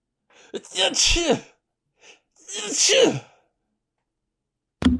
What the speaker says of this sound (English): Achoo!